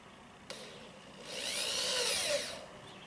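Corded drill driving a screw into a wooden animal feeder: a sharp click, then the motor whirring up into a rising, sustained whine for about a second before stopping, close and clear with no voices.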